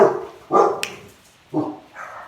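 Several household dogs barking in short loud bursts separated by brief pauses, close by, with a yip and some whimpering among the barks and no talk.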